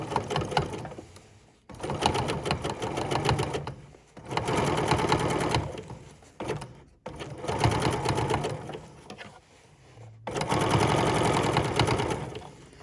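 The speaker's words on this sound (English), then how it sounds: "my 880 Plus can just plow through this stuff like butter." An 880 Plus sewing machine stitches through a thick denim jeans hem in four long, steady mechanical runs separated by short pauses, close and loud.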